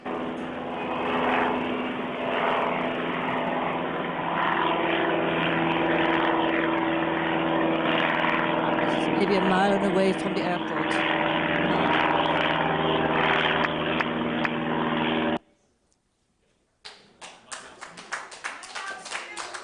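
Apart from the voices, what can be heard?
propeller airplanes flying over house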